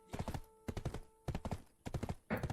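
Horse hooves clip-clop in quick bursts of rapid steps in Black Desert Online, three or four close, clear runs separated by short gaps, with a brief scuffing noise at the end and no talking.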